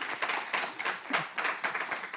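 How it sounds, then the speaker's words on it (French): An audience at a live entertainment-show final applauds in a short, soft burst, with rapid clapping pulsing steadily for about two seconds. "Ça applaudit."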